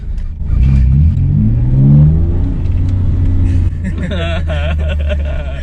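A 2002 Mercury Cougar with a 2.5L V6 engine revs up and accelerates from close by, its rising engine note loud and rumbling, then an upshift and renewed pull as a voice speaks over it.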